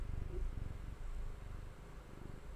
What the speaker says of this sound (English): I don't know if you guys can hear him purring or not.